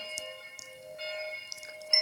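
A small bell rings with a sustained, bright metallic tone that hums steadily, with a few soft taps and clinks around it.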